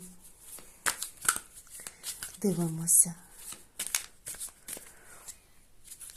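Tarot cards are shuffled in quick crisp riffles and flicks, close by, while someone speaks briefly.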